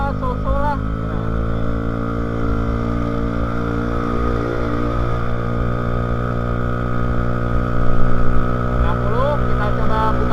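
A 2014 Vespa Primavera 3V scooter with a remapped ECU runs with a loud, steady buzzing engine drone that swells briefly as the throttle is opened near the end.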